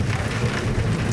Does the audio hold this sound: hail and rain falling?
yes